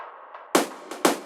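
A clap drum sample from a Moog Sub 37 techno soundbank hits twice in quick succession, sharp and dry, with a softer bright tick after each, over a faint low synth pad.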